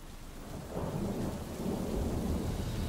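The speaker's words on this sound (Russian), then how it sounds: "Так, тут у нас гроза даже имеется. С вот таким вот реально качественным довольно-таки дождем." A thunderstorm with heavy rain in the Neighbours from Hell game mod, a steady wash of rainfall under a low rolling rumble of thunder that builds gently and stays close and even throughout.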